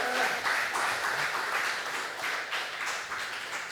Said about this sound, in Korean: 우리 박수 좀 칩시다.